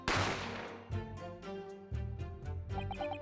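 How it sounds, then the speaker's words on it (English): A single sharp gunshot sound effect from the Great Ace Attorney Chronicles video game, a loud burst at the start that decays over a few seconds into ringing, shimmering tones and plucked game music. "You heard the gunshot, you mean?"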